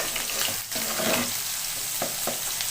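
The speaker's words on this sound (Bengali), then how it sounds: "আমি এখানে 2টো লঙ্কা আর একটা পেঁয়াজ দিয়েছি, সেগুলো ভেজে নেব টাকা তেলে" Two green chillies and an onion frying in hot oil after eggplant, a dense continuous sizzle with a few sharp stirring scrapes and taps, close up and with no voices.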